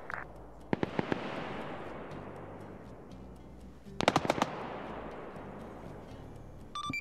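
Gunfire in a military video game, with sharp bursts of shots near the start and a denser cluster around the middle, each followed by a long rumbling decay, then a few quick cracks at the end.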